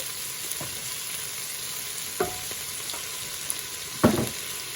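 Flour being stirred into vegetables sizzling in a pan, a steady frying hiss with a few soft scraping stirs and one louder clack near the end, close and alone.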